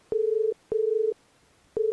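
Repeated telephone tone after a prank call is hung up, steady beeps of about half a second separated by short gaps, clear and alone with no voices.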